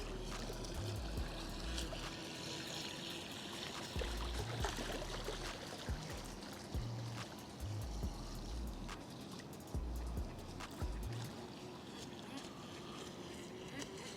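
Quiet, distant motor buzz of a mini FTX Moray RC speed boat skimming across water, with intermittent low thumps and splashing hiss as it hops along the surface.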